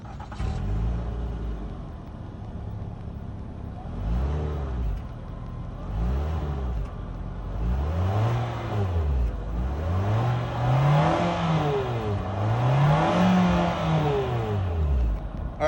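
A 2022 Mitsubishi Outlander ES with a 2.5-liter four-cylinder engine starts up and settles into idle, then gets several quick revs that climb and fall, growing longer and higher toward the end, recorded close by with no talking.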